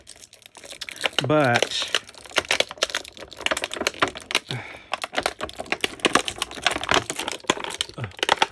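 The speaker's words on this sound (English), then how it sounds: "this is my favorite noise, by the way. Crinkle, crinkle." Plastic packaging of a Masterverse Two-Bad action figure crinkling and crackling in dense, irregular bursts as the toy is unboxed close up, with a person talking over it at times.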